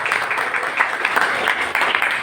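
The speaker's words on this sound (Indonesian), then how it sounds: "Tepuk tangan dulu untuk KKG Kabupaten." A crowd claps in dense continuous applause for the KKG Kabupaten group at a teachers' training session, moderately loud and steady throughout.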